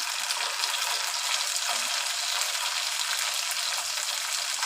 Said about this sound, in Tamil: இப்போ நல்லா வதங்கி வந்துருச்சு நம்ம வந்து தக்காளியை போட்டுடலாம்